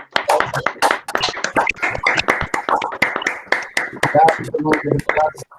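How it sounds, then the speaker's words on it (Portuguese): At the close of a mathematics lecture on linear codes, an audience applauds with dense, continuous clapping that runs through the whole stretch, while voices speak over it. "vamos aplaudir a Fernanda e o César"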